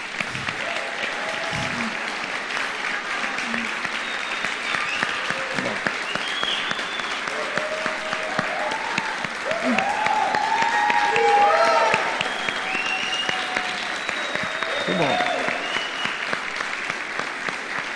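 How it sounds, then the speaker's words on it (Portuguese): A crowd claps and applauds steadily, swelling louder midway, with scattered cheers and voices mixed into the clapping. "Uma salva de palmas."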